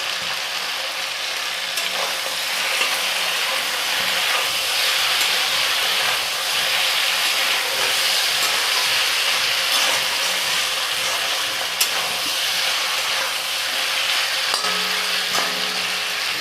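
Pounded garlic hits hot oil in a pan while chicken curry is cooked, giving a steady, dense sizzle and crackle that runs evenly throughout, close and unbroken, with a few faint clinks near the end.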